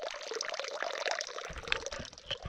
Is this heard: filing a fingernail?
no